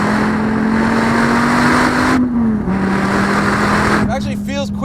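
A 2013 SRT Viper GTS accelerates hard in a straight line, its engine drone loud and close, dipping briefly at a gear change before pulling again, with a voice speaking over it near the end.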